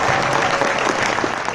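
A cinema audience applauds director Mathias Malzieu after a screening of his film, a thick, continuous wash of many clapping hands at full volume with a faint murmur of the crowd beneath.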